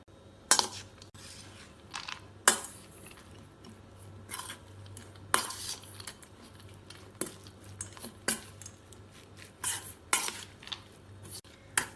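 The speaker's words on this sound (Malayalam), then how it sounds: "ആവശ്യത്തിന് ഉപ്പും കൂടെ ചേർത്ത് എല്ലാം കൂടി ഇളക്കി മിക്സ് ചെയ്യാം." A spoon stirs kosambari salad with grated coconut and salt in a bowl, giving soft, intermittent clinks and scrapes against the dish with quiet squishing between, close and faint.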